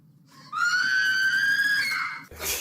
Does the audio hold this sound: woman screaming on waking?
yes